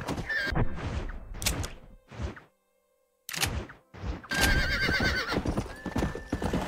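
Horse hooves clip-clop steadily in Red Dead Redemption as the animal neighs and whinnies loudly several times, with a short silent gap midway and brief game sounds around the gallop.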